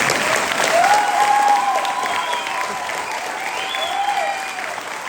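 Sustained audience clapping at a Tamil New Year 2025 speech gathering, a dense crowd applause filling the hall at steady strength, with a faint voice or tonal sound sliding through in the background.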